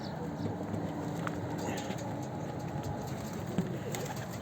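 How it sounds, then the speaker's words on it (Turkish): Deli fişek breed pigeons cooing softly amid a steady background murmur, with low coos and faint bird calls scattered through the clip rather than one distinct call. "Kuşlarımız da geziyor."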